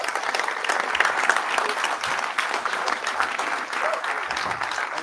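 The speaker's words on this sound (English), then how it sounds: "Ladies and gentlemen, let us applaud the batch of" Audience members at a film academy convocation applaud a graduating batch, producing loud, continuous clapping from a sizable crowd that stays full and unbroken throughout.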